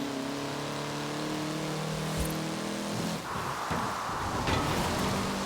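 A Mitsubishi Starion ESI-R with drift suspension in Forza Horizon 4 holds a steady droning engine note. It then blips and revs roughly as it shifts, with tyre and wind noise rising over the last seconds.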